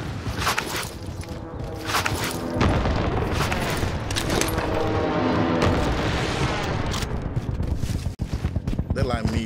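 Video game firefight with dense, loud gunfire, rapid bursts and heavy booms layered over one another close by, while someone talks over the shooting.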